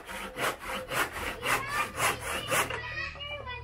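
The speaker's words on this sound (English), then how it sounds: "So we need to trim the wood that we have to put on top and bottom about 1/4 inch" Wood being trimmed for a window is sawn by hand in a regular back-and-forth rhythm, about seven or eight rasping strokes that are close and clear, then stopping.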